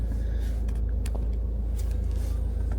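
Car driving off from a yard, heard from inside as a steady low engine rumble with faint rattles and clicks, no talking.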